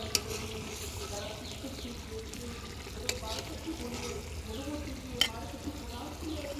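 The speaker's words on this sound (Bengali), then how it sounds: "দেখি মাছ কষানো হইল কিনা" Fish sautéing in a pan for a cauliflower dish gives a soft, steady sizzle with a few sharp clicks of utensils, close but quiet. Faint talk sits under the frying.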